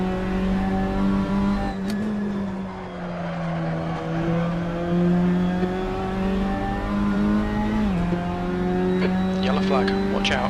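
Touring race cars in a BTCC racing game at Donington howl with sustained engine drone and brief squeals from locking rear tyres, under commentators' talk.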